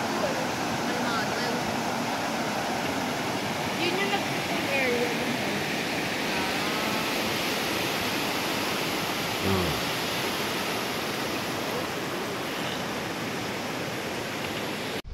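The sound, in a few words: strong rushing river current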